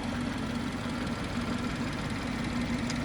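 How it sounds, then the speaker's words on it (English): A BMW 420i Gran Coupe M Sport's 2-litre petrol engine idles, a smooth, steady low hum with a faint regular pulse, heard up close and alone. "It's a really nice smooth engine, the 2 litre petrol on the BMW."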